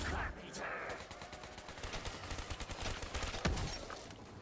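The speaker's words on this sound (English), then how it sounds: "right now I'm just doing a light trigger squeeze and just pumping out a 1-round shot" Rapid gunfire from a first-person zombie survival game on the Nacht map, with dense bursts of shots crackling steadily throughout and one sharper, louder blast near the end, all close and loud.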